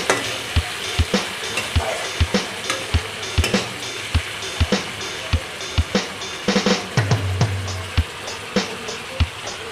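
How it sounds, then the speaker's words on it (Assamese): Boiled potatoes frying in a pan for an Assamese fish curry, a continuous sizzle broken by regular sharp spatula knocks and scrapes as they are stirred, loud and close with no talking. "মই বইল কৰি থোৱা আলুখিনি ধুনীয়াকৈ দি দিলোঁ আৰু অলপ এনেধৰণে লৰাই থাকিম"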